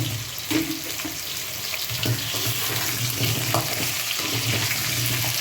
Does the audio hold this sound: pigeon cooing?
no